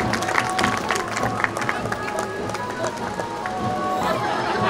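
Crowd applause at a construction company branch inauguration, a busy patter of many hands clapping at moderate distance, with scattered voices mixed in.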